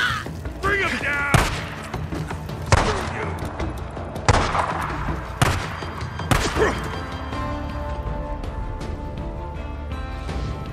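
Repeated sharp gunshots ring out in the Days Gone game, about half a dozen loud cracks at irregular intervals amid shouting voices and background score.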